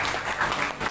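An audience at a PT. BBC company presentation in Lombok claps for a brief moment, a dense, steady wash of applause.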